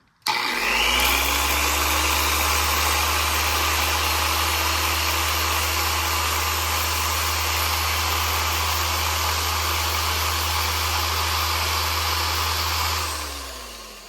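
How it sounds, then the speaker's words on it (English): An electric dual-action sander with fresh 150-grit sandpaper runs on a horn button, spinning up abruptly into a steady loud whine and whir that holds for about twelve seconds before winding down, with no talk. "New piece of 150 grit sandpaper on my electric DA, and we'll see what goes on here."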